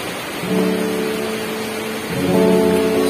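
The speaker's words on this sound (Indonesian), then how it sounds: "Di sini ada hujan ya, jadi mungkin suaranya agak jelas." Rain falling outside, a dense steady hiss of drops on surfaces with a low rumbling swell partway through, loud and close with no voices.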